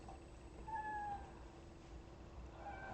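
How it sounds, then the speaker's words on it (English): A pet cat meows indoors, one drawn-out meow followed by a shorter one near the end, faint and close-miked over a low steady hum. "That's my cat."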